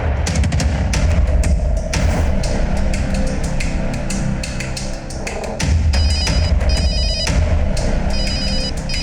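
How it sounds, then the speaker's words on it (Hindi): A telephone rings repeatedly under loud, dense dramatic music that fills the whole clip, in a crime drama scene. "लड़की के पति का फोन आ रहा है"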